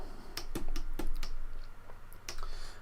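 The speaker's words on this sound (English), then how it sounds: "I have to use my keyboard shortcut so I can flip between frames" A few sharp key presses on a computer keyboard used for frame-flipping in 2D animation software, spaced irregularly over a quiet room background, close and moderately loud.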